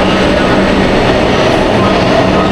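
A Kolkata Metro train hums steadily at Jay Hind underground station, a dense, continuous rumble filling the space without any voices.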